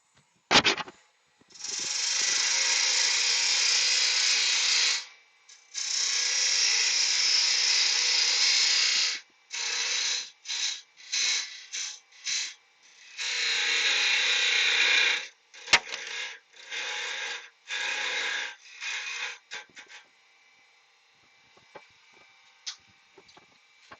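A wood lathe cuts a slight bevel into a spinning wooden blank meant for the chuck, producing steady harsh scraping bursts that start and stop repeatedly, some several seconds long and others brief, ending in quieter intermittent ticks.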